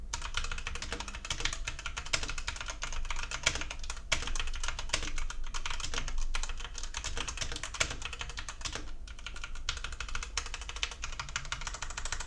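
Rapid, continuous clacking from typing on a Redragon K596 Vishnu wireless mechanical TKL keyboard, close and crisp, with dense overlapping keystrokes and occasional louder taps, no talking.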